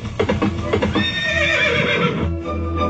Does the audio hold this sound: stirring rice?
no